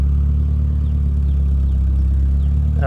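A Volkswagen GTI 2.0 turbo engine idles at about 1,000 RPM, a steady low rumble with an even, unchanging hum throughout, loud and close, with no voices.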